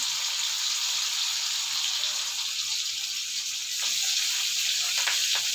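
Continuous hissing sizzle of chopped onions frying in hot oil after mustard seeds, steady and close, with a few faint clinks near the end.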